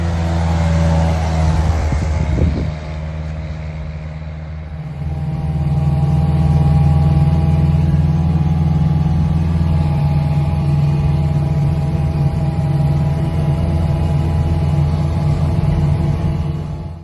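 A 1938 Austin Big Seven Sixlite saloon engine idles steadily close by, a low continuous rumble that swells slightly after a few seconds and holds an even, smooth tone throughout with no talking.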